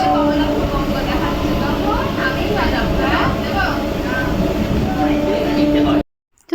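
A Shantipur to Krishnanagar passenger train runs with a steady, loud rumble and rattle for about six seconds, then cuts out abruptly; voices may be heard faintly under the noise.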